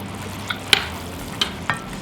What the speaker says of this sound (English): Now we're going to go in with our chives. We're going to stir those in.